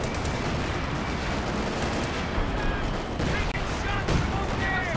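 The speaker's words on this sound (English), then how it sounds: "Oh, and he's dropped some artillery behind this." Dense artillery and small-arms fire roll continuously through a Company of Heroes 2 battle as layered booms and rattling shots, with someone commentating over the top.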